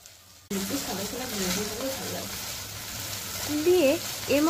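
Spice paste for dhaba-style paneer masala fries in a pan with a steady, dense sizzle that runs continuously after an abrupt start, with a wavering melodic tone drifting over it.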